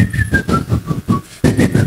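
Melodic whistling carries a wavering tune of sliding pitched notes over a steady rhythmic backing with low thumps, breaking off briefly near the end before resuming.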